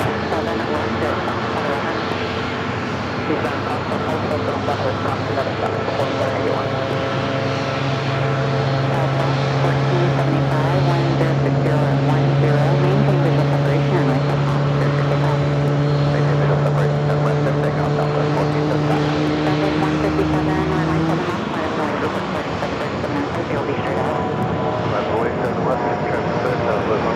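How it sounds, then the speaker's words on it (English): A Southwest airliner taxis toward gate Delta 5 at Phoenix Sky Harbor Airport, its engines holding a steady, loud whine with a rising tonal hum that drops away near the end, as people talk over it. "Let's go back to another Southwest flight heading into gate Delta"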